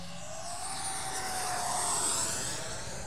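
A small electric ducted-fan RC jet plane whines steadily overhead, a smooth high-pitched rushing hum that swells slightly and fades, with no voices.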